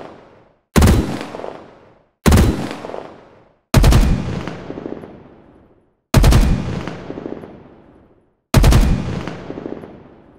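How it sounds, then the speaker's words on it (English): Battle rifle from Halo Infinite fires five separate loud shots, each a sharp punchy crack with a long decaying tail, spaced roughly one to two seconds apart with no talk. "I will do a battle rifle audio comparison"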